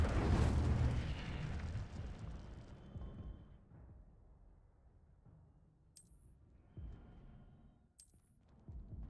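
An Incendio fire spell from the Hogwarts Legacy video game erupts in a loud roaring blast that fades out, followed by two shorter, sharper bursts later on.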